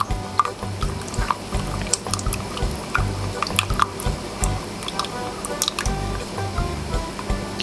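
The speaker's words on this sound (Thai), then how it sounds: "คนไปเรื่อยๆนะคะเลี้ยงอุณหภูมิไว้อันนี้มันยังร้อนอยู่เนาะ" Hot homemade coconut body lotion being stirred continuously in a pot, giving close, wet squishing and sloshing with small drips and clicks in a steady, uneven rhythm, loud and unaccompanied by speech.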